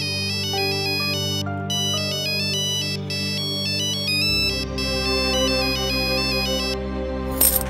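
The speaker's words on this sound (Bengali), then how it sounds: "রিং হচ্ছে" A mobile phone ringtone plays on an outgoing call, a bright repeating electronic melody heard clearly and alone, with a low drone joining partway and a brief burst of noise at the end.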